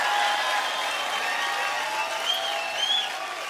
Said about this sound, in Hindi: सो जोरदार तालियों से स्वागत करना चाहूंगा the very beautiful, very talented Sonam Kapoor and evergreen mister Anil Kapoor